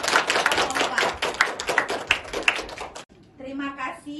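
A classroom audience applauds after a chemistry presentation: a burst of many hands clapping for about three seconds, close and lively, then it stops.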